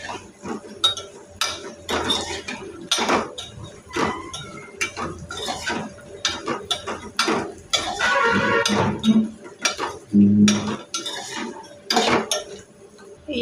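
Dried urad dal vadiyalu are tipped into a bowl amid close metallic clinks and clatters of steel dishes and spoons, a busy irregular run of knocks and scrapes in a kitchen.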